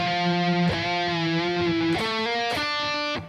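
Distorted electric guitar plays a heavy riff from a song, loud and sustained, with held chords that shift to new notes at sharp attacks and then ring out to the end.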